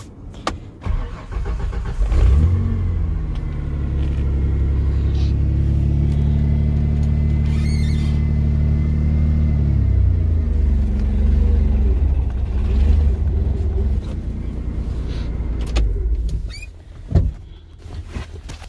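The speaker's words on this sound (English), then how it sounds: "this truck sounds a little, she's been used a lot" An old, heavily used farm truck idles and runs close by with a steady low rumble that swells slightly mid-clip and then settles, with no talking over it.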